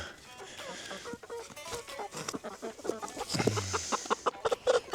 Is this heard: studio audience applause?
no